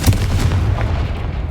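Confringo fire spell blasts in the Hogwarts Legacy video game, a loud, booming, gunfire-like burst with a sustained low rumble that carries through the short moment, with no talking over it.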